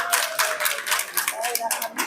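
A crowd at a birthday party claps together in dense, brisk applause, close and fairly loud, with voices mixed in throughout the short burst.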